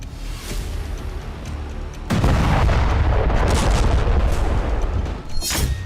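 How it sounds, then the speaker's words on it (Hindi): A blast from an Israeli airstrike destroying a car bursts in after a stretch of muffled rumble, a sudden loud boom followed by sustained roaring noise and a sharp crack near the end. "इसी दौरान इजरायली विमान उसे टारगेट कर लेता है, जिसके बाद एक विस्फोट होता है जिसमें कार तबाह हो जाती है"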